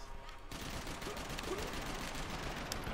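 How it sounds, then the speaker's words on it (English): Rapid gunfire crackles in a Max Payne 3 multiplayer match, a dense fusillade of overlapping shots that starts abruptly and keeps going without a break. "who's shooting me?"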